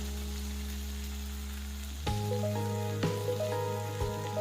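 Dried chori beans sautéing with turmeric and salt in a pan give a steady hissing sizzle, then sharper crackles and clinks of a utensil join in partway through, close up and without talk.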